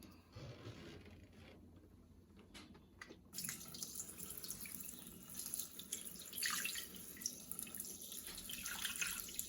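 Water runs steadily into a mixing bowl while 300 grams are measured for bread dough. A continuous splashing trickle grows louder partway through and stays fairly close and alone.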